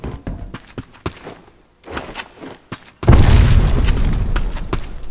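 A heavy boom from a grenade launcher explosion in the Black Squad shooter game, arriving after a series of sharp thumps and footstep-like knocks. The blast is loud and close, and a dense rumbling roar follows it to the end.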